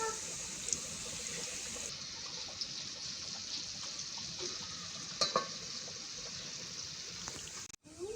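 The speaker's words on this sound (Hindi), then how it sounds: "पकोड़े गोल्डन फ्राई हो चुके हैं" Spoonfuls of gram-flour pakoras for Punjabi kadhi fry in hot oil with a steady, close hiss and sizzle. Occasional stirring clinks and spatters break through.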